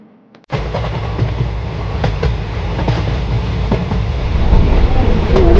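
A train passes on the opposite track near Almatti Dam. Its loud, steady rumble and clatter begin abruptly after a brief quiet moment, with repeated wheel clacks building in loudness as the train rushes by.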